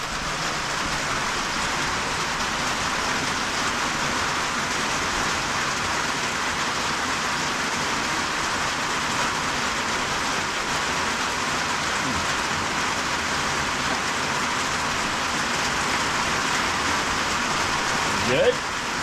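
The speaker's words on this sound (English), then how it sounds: "That's rain coming on this tin roof right here." Heavy rain pours steadily onto a tin roof in the Ozarks, a dense, even hiss that holds for the whole stretch, close and loud, with no talking.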